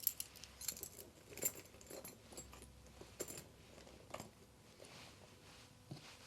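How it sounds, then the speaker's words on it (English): A large set of keys jangles faintly while being packed into a small leather handbag, with light scattered metallic clinks and rustles over several seconds. "And then the large set of keys too."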